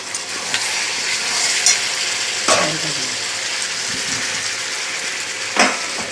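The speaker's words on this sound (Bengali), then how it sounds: "আমি চাপা দিয়ে দিয়ে ভালো করে কষিয়ে নেব দেখো তেল ছেড়ে দিয়েছে" Chicken kosha with oil separating in a pan, pressed and stirred: a loud steady sizzle with occasional sharp clanks and scrapes of a spatula against the metal, a few seconds apart.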